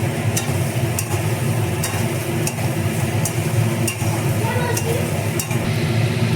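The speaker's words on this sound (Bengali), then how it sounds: "এইবার আমি ওই ভেজে রাখা আলু বড়ি সব দিয়ে দেবো কিছুক্ষণ নাড়াচাড়া করবো" Fried potatoes and bori lentil dumplings stirred into sizzling masala with cauliflower, a steady sizzle under faint clinks of a spoon against the pan, with a hint of a voice in the background.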